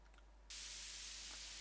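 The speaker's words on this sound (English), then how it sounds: "again, white noise" Broadband white noise effect in an electronic music production, a soft filtered hiss that suddenly swells into a loud, steady wash and holds, with no voices present.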